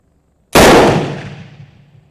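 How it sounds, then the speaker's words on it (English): A Remington rolling block Model 1897 rifle chambered in 7mm Mauser fires one loud, sharp shot after a moment of silence, and the report rings and decays over about a second and a half. "Alright, I'm going to shoot target on the right."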